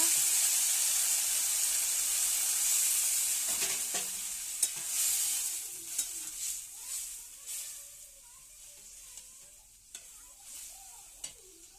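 Vegetables sizzling in a pan meet poured water, a loud hissing burst of steam that fades into quieter bubbling and occasional stirring knocks.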